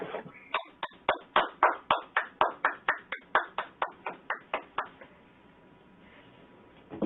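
A patient in a neurological exam for atypical parkinsonism claps repeatedly, roughly fifteen sharp, close hand claps in a fairly steady rhythm, well beyond the three asked for, then stopping into near quiet.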